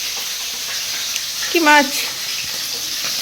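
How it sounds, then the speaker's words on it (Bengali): A mother fries fish in a pan at home, giving a constant close hiss of hot oil while a short spoken question cuts across it. "আর এদিকে মা রান্না করছে"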